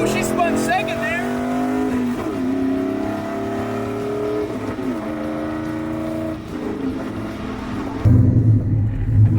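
A stick-shift Chevrolet Silverado revs hard as its tires spin and slip under acceleration, engine pitch rising and dropping through gear changes, with someone talking over it and a heavy rumble near the end.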